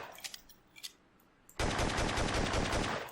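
WW2 machine gun fire from a Unity weapons sound pack opens with a few scattered single shots. It then erupts into a loud, sustained rapid-fire burst that continues unbroken to the end.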